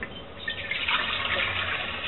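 About 1.5 liters of water pours steadily into a container for making water kefir, a continuous splashing rush that grows slightly fuller as it goes.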